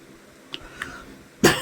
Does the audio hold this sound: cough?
yes